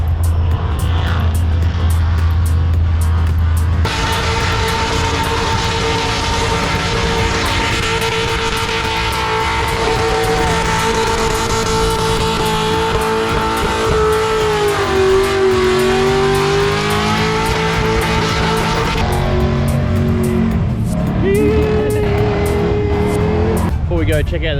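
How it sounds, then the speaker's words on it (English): Cars doing burnouts at Summernats roar continuously at high revs, a loud sustained engine wail that shifts in pitch, with crowd noise and talk mixed in. "Oh, well, we found the Burnouts"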